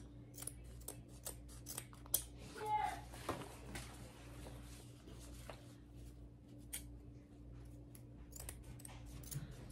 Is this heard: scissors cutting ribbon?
yes